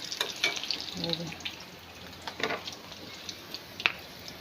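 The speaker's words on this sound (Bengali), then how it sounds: "উচ্ছে ভাজার জন্য পেঁয়াজ ভাজছি" Onions sizzle in a pan for bitter gourd fry, a faint steady frying hiss with a few light clicks and stirring sounds, and a voice speaks briefly in the middle.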